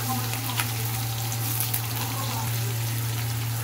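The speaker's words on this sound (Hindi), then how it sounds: "तेल गरम हो गया है, इसमें मैं डालू जीरा," Cumin and chopped onion frying in hot oil in a home kitchen, a loud, steady, close sizzle with an electrical hum underneath and a few small crackles.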